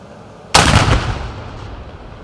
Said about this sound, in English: a cannon firing could be seen and heard across Pittsburgh State University's campus during a remembrance ceremony